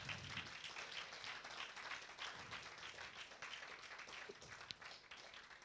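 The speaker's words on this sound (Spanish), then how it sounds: "Dele un fuerte aplauso al Señor." Church congregation applauding during a sermon, a steady dense wash of clapping from many hands that runs throughout without a break, moderately distant and fairly faint.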